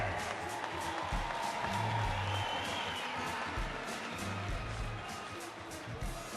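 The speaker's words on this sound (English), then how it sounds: "please a round welcome applause for Mr. Paul Ryan." Crowd at a supercross motorcycle racing event applauds and cheers, a distant, diffuse roar of clapping heard quietly, with a public-address voice faintly mixed in.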